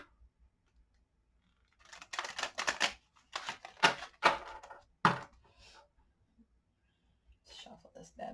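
A tarot card deck is shuffled in bursts of papery riffling and snapping, close and fairly quiet, with pauses between the shuffles.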